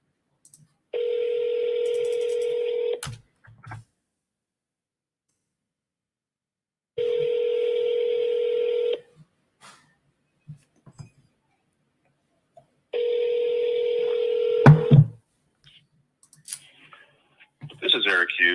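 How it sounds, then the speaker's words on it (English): A telephone dials out three times, each a steady two-second tone burst separated by quiet gaps, followed by brief handling clicks and faint background noise. "So I'm going to call this person one more time."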